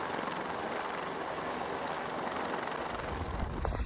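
A helicopter flies low while dipping water from a swimming pool, producing a broad, steady roaring wash of rotor and engine noise that swells slightly toward the end, with no talk.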